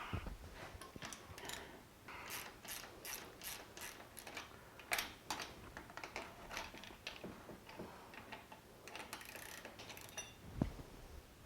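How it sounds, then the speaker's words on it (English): The threaded cap of a reverse osmosis filter housing is turned loose by hand, giving a steady run of quiet, close ratcheting clicks and plastic creaks for several seconds. "now I'm going to remove the cap"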